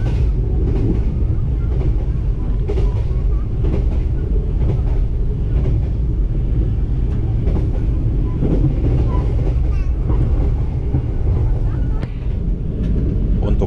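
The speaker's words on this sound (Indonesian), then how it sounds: "adalah suasana di dalam kabin kereta ekonomi Gunung Jati" Inside the economy-class cabin of the Gunung Jati train from Jakarta to Cirebon, a loud steady low rumble of the moving carriage with faint rhythmic track clatter throughout.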